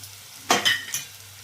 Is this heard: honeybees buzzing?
no